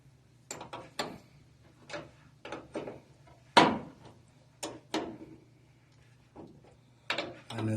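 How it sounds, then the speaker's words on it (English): A wrench works loose the fuel line on a 1953 Chevy, making scattered metallic clicks, scrapes and clanks at irregular intervals, close and moderately loud over a faint low hum. "So this is how you remove the fuel line."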